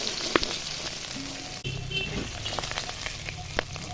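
Potato pieces sizzle steadily in a pan where a katla fish head was just fried, a close, continuous crackle with small spatters and a brief stir partway through.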